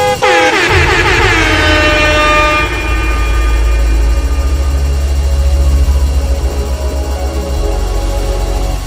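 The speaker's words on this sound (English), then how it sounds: "as I do give them a honk to inform my arrival" A loud, sustained horn blast rings out from close by, holding steady for several seconds over a low rumbling engine.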